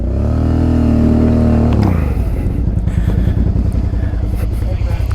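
A Suzuki DR650 dual-sport motorcycle on a dirt ride holds a high, steady rev for almost two seconds. The engine then drops to a lower, pulsing thump as it pulls away, loud and close.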